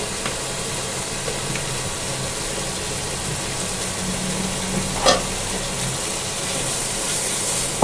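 Onion, chili and ground spices frying in a pan for a fish curry, a continuous close sizzle with a single sharp clink of a utensil near the middle.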